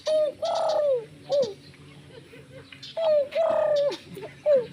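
A human voice imitates pigeon cooing in several rounded, throaty coos, separated by short pauses, close and clear.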